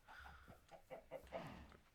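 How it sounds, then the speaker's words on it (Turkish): A chicken in the Minecraft video game clucks in a short series of soft, quiet bursts, repeated several times over a couple of seconds. "Tavuk."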